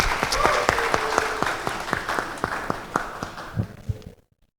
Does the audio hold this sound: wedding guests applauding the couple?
yes